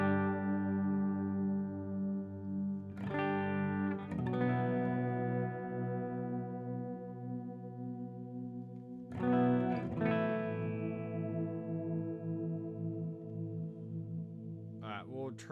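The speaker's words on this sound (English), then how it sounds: "We'll get a low gain sound on this Proco Rat." An electric guitar played through a Headrush unit's Proco Rat low-gain distortion model with long ambient reverb, ringing sustained chords that are struck again twice and left to decay.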